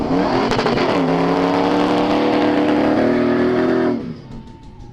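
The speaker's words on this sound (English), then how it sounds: "You can go dune bashing in a 4x4" A 4x4 off-road vehicle, such as a Toyota Land Cruiser or Nissan Patrol, dune bashing in the Arabian desert: a loud, close engine strains and revs for about four seconds, then cuts off abruptly to quieter wind.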